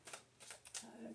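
Tarot cards riffle and snap in quick shuffling bursts, close up and soft, with quiet rustling between the flurries.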